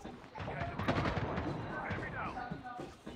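Gunfire in the mobile shooter Call of Duty Mobile, with dense overlapping bursts of shots and impacts crackling throughout, while a player talks over the game sounds.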